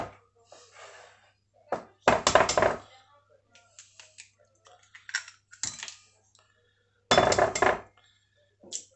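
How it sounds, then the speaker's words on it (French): Four eggs cracked one by one on a bowl rim in a home kitchen while making a chocolate cake, giving sharp isolated taps and cracks separated by quiet gaps, with a few louder clattering bursts. "Maintenant, il faut casser 4 œufs."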